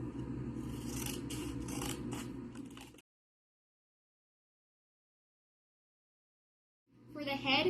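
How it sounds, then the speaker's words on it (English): Scissors snip through a paper plate, cutting it in half for a children's craft; a steady crisp cutting and rustling runs for three seconds, then silence, then a short burst of cutting again near the end. "We're now going to move on to cutting the plate in half."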